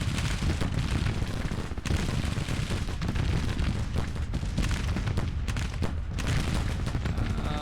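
Dense, continuous battlefield gunfire from a Civil War video game, overlapping rifle volleys and booming artillery with no pause, loud and crowded throughout.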